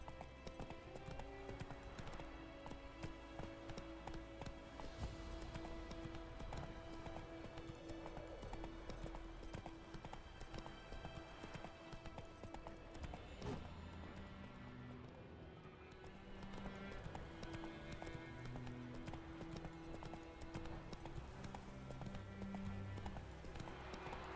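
Hooves clip-clop at a brisk gallop as a horse runs in The Witcher 3, steady rhythmic beats carried under a bed of game music throughout.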